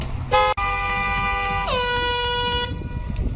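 Loud air horn honking close by on a street: one short blast, a brief break, then a long sustained blare that drops slightly in pitch before cutting off.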